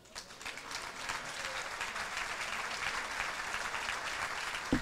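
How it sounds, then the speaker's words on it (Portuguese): Church congregation applauding during a Portuguese-language sermon, a dense steady wash of many hands clapping at once, sustained and fairly even for several seconds with no speech over it. "Aplauda o Senhor por isso."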